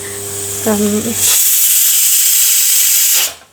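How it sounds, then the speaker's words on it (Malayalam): A pressure cooker on a home stove vents steam in a loud, steady hiss that holds for about two seconds and then cuts off. A brief tonal whine comes just before it, with a low hum underneath. "കുക്കറിൻ്റെ സൗണ്ടാണ്."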